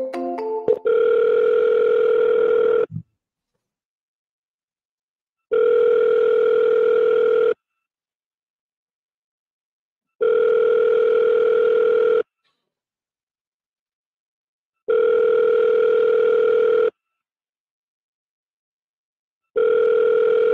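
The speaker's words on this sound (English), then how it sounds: "we'll double dial." A telephone call to a real estate office rings out: a short burst of dialing tones, then five evenly spaced ringback tones, each about two seconds long, separated by silence, clear and loud.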